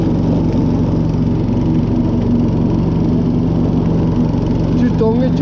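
A quad bike engine running steadily while mowing a lawn, a loud continuous droning hum close by with a faint squeal near the end, no voices.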